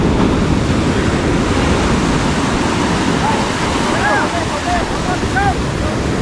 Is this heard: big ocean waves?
yes